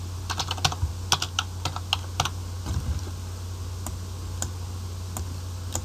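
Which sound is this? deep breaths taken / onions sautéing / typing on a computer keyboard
typing on a computer keyboard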